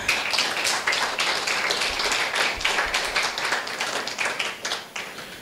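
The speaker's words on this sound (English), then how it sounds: "A round of applause, please, for Anna." Audience applause for a girl named Anna after her talk at an International Day of the Girl Child event, a steady patter of claps lasting several seconds and thinning slightly toward the end.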